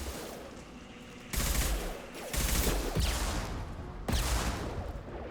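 Gunfire and rocket blasts from the video game Mass Effect 2 on Insanity difficulty, a sustained rattle of shots punctuated by three loud, abrupt explosive bursts close together.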